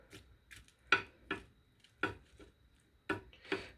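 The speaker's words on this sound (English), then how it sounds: "now we got to stir the macaroni and cheese" Macaroni and cheese stirred in a microwaved bowl, a series of sharp irregular clinks and scrapes of utensil against the dish, about seven distinct knocks spread over a few seconds in quiet surroundings.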